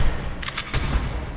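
Gunfire in a dinosaur shooter video game comes as a short cluster of booming shots that rises briefly over a dense, rumbling game background.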